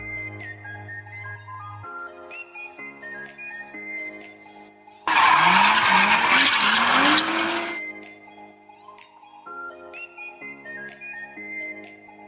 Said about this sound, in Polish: Jestem na światłach i jakiś dres zaproponował wyścig do Malechowa o stówkę.